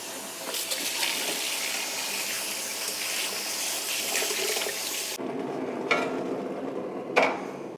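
Cherry tomatoes and a small zucchini washed under a running kitchen tap, a steady close gush of water for about five seconds, then the flow stops and a couple of wet handling knocks follow.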